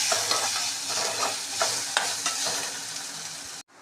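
Grated mango ginger frying lightly in oil, a bright continuous sizzle with soft scrapes of a spoon stirring every half second or so, close up, ending abruptly in silence.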